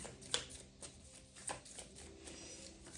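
Tarot cards shuffled by hand at close range: faint, soft riffling and a few sharp flicks over a low background hum, with no talking.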